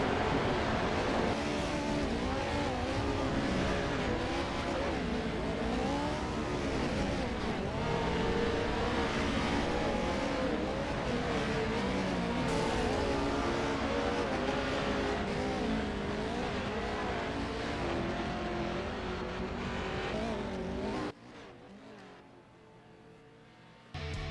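Race cars roaring around the Crandon short course in the iRacing simulator, a dense, steady pack of engines wailing and shifting for about twenty seconds before dropping away abruptly.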